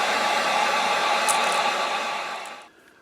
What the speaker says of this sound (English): we're going to have to get the heat gun and dry it really good.